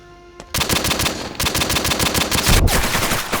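Rapid automatic gunfire in the shooter game Pixel Strike 3D, a dense loud burst of shots rattling almost continuously for about three seconds.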